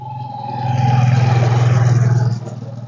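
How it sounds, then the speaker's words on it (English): A motorbike engine rises, roars steadily nearby for a couple of seconds, then fades off quickly as it passes. "There's a motorbike coming."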